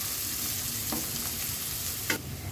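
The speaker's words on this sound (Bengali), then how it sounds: "খুব বেশি সময় ভাজতে হবে না, জাস্ট 1 মিনিটের মতন, 1 মিনিট থেকেও কম সময় ভাজতে হবে।" Onions frying in a pan as stuffing for beef momos, a steady close sizzle that runs throughout, with a couple of brief stirring scrapes.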